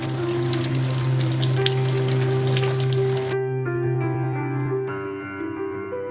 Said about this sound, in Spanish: Lavamos los sesos bajo un chorro de agua porque a veces puede tener algún huesecillo astillado.